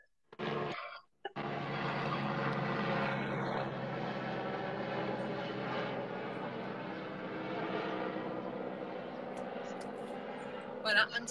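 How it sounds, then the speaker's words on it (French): A steady whirring rotor drone fills the clip after a brief cutoff near the start, constant and fairly close, with a small clatter at the end. "Voilà, un petit hélicoptère."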